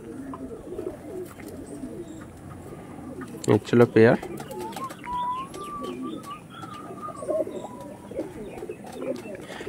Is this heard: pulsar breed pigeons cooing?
yes